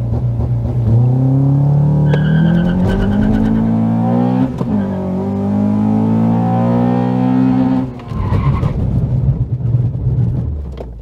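A Honda Accord Euro fitted with Hawk Performance brake pads accelerates hard from standstill to 100 km/h, engine revving up through gear changes with a close, loud in-car drone, then lifts off and brakes firmly to a stop.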